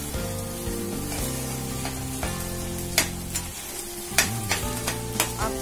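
Roasted spice and samosa filling sizzle in a pan while being stirred, a close, steady fry punctuated by several sharp scrapes and taps of a spoon, with no talk.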